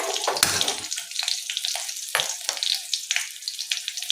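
Vegetables sizzle and crackle in a hot pan, with a louder burst at the start and then steady spitting and occasional stirring scrapes.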